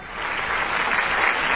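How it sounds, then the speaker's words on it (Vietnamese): A steady burst of audience applause at a children's singing contest final, dense and loud throughout a short stretch without talk. "Một tràng vỗ tay"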